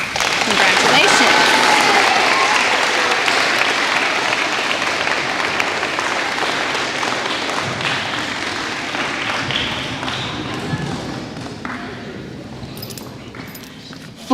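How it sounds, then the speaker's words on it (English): Audience applause for elementary school sixth-grade award winners at an awards ceremony, steady dense clapping from a crowd that holds for the whole stretch and slowly thins toward the end. "then we'll clap when all 3 are down"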